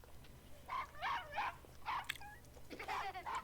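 A dog in a 1981 werewolf film gives a run of tense, whining barks and yips, fairly close and clear over a low background hum.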